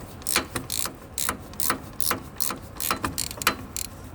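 Ratchet wrench tightening an engine mount bolt on a Mercedes-Benz Sprinter-style street bus with engine 105, giving close, crisp ratcheting clicks in short rhythmic bursts, about a dozen strokes, with no talking.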